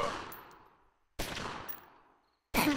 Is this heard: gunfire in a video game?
yes